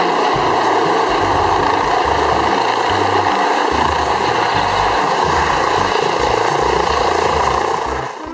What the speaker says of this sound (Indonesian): lihat teman-teman, ada helikopter